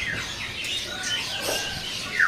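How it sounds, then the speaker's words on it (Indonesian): A pi jantung pisang songbird at a bird kiosk gives quick, sweeping chirps and whistles, with other birds tweeting around it over a steady background hum. "Ini ada burung pi jantung pisang ya."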